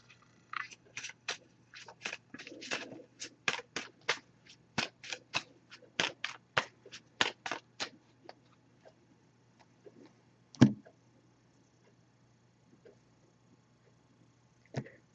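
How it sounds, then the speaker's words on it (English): Rapid crisp shuffling of a deck of oracle cards, a run of quick riffling snaps in bursts, then a single louder tap as the deck is set down. "I'm just going to give this a few shuffles, and then we'll put the deck down"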